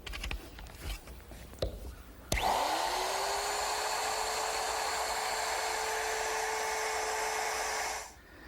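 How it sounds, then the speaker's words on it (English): A few knocks and clatters, then a router with a quarter-inch quarter-round bit spins up to a loud steady whine, rounding over wood edges for several seconds before winding down. "I'm using my router, which I've set up with a 1/4 inch, quarter round bit"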